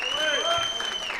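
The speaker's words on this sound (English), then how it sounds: "Give a round of applause to Tyvis." Audience applause for a former Ohio State national championship MVP, a short steady wash of clapping from a crowd, fairly loud and continuous with no break.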